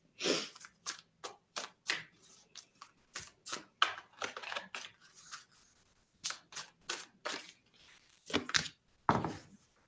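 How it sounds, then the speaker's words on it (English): Tarot cards being shuffled and pulled from a deck, a close series of quick flicking and riffling bursts with short pauses in between, and no talking. "I want to pull one more card for you guys"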